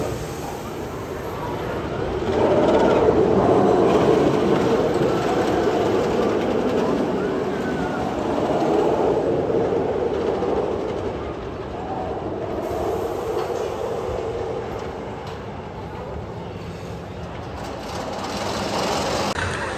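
The Jersey Devil roller coaster train at Six Flags Great Adventure rumbles and clatters steadily along its track, a loud continuous roar that swells and eases across the stretch, with no clear talk.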